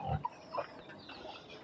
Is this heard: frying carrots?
no